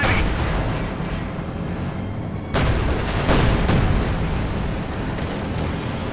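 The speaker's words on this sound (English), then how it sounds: "There we go, another IS-2 blown up!" An IS-2 tank blows up in Company of Heroes 2, heard as loud battlefield booms and blasts, with a sudden heavy explosion bursting in midway over a constant rumble of artillery fire.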